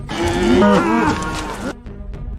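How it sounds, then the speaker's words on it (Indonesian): A loud, close cow moos in one long, drawn-out call with a wavering pitch, then cuts off abruptly, leaving faint background noise. "Mirip kayak suara sapi dalam bahasa Hawaii ya."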